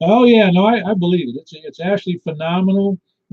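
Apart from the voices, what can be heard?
No distinct noise like a dog, phone or traffic.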